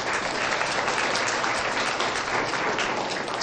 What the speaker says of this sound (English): I just want to hear you make an applause.